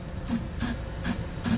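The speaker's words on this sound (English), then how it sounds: "now we'll go ahead and just take some spray paint." Can of spray paint coating bare metal on a trailer hitch mount, four short, even bursts of hiss in a steady rhythm, close and moderately loud, with no talking.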